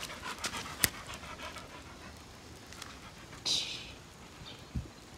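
A dog panting faintly in a quiet outdoor setting, with a few scattered thumps and clicks and a brief louder rustle partway through.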